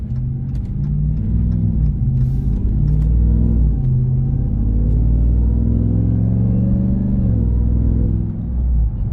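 A 2022 RAM 1500 TRX pickup's engine rumbles deep and loud from inside the cab while driving, a steady low drone with smooth shifts in pitch and a slight dip near the end.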